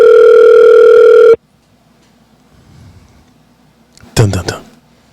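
A telephone dial tone hums steadily and loudly for about a second before cutting off when a call is placed, followed by near silence and then a brief burst of sound.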